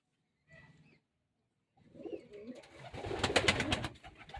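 A female pigeon gives a short soft coo, then after a pause a rustling flurry of movement and wing flutter builds, with low cooing mixed in, close and fairly quiet.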